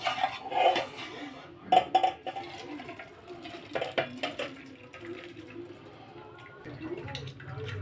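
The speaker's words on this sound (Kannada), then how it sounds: "ಈಗ ನಾನು ಇದನ್ನು ಬೇರೆ ಪಾತ್ರೆಗೆ ಬಸ್ಕೊತೀನಿ" Cooked lentils and tomato clatter as they are scraped and poured from one pot into another, with repeated metal knocks of spoon against pan and soft wet slops in a home kitchen.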